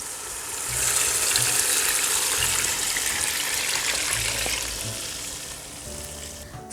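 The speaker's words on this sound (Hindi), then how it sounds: "अब मैं पहले यखनी डालूंगी और बाकी इसकी जो कमी है वो पानी के साथ पूरी करूंगी।" Chicken stock (yakhni) and water are poured into a hot cooking pot for pulao, a steady rushing, sizzling pour lasting several seconds before it stops.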